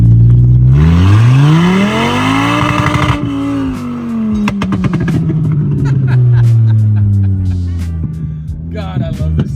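A VW Mk2 GTI with a swapped 07K five-cylinder engine and no proper exhaust revs hard, climbing sharply to the limiter, holding briefly, then dropping through a falling, burbling decay, loud and close.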